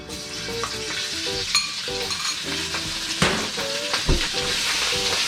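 Minced meat sizzles steadily in an oiled pan while a utensil stirs and scrapes it, with repeated clinks and knocks against the pan over a constant frying hiss; no one speaks.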